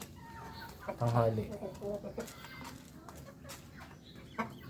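Rhode Island Red hens clucking nearby in a run, short rhythmic clucks and a brief squawk under Tagalog talk and background noise.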